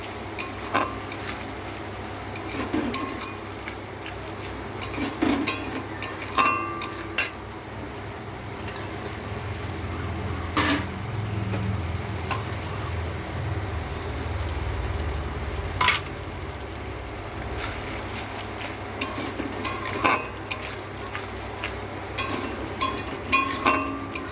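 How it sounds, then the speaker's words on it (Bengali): Melon seed and cashew paste being stirred through a frying pan, a low steady sizzle under repeated metal spoon scrapes and clinks against the pan, close and ongoing with no voices. "এখানে আছে চালমগজ আর কাজু বাদাম বাটা"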